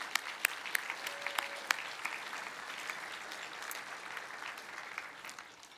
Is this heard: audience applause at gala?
yes